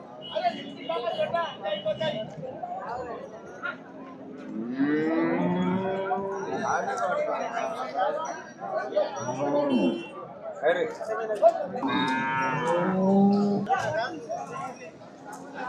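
A young female calf moos several times, long drawn-out calls rising and falling, mixed with people chatting nearby at a cattle market in Sardar Nagar.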